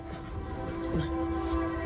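A train rumbles past nearby with a steady low roar and a sustained horn-like tone running through it, fairly quiet and continuous.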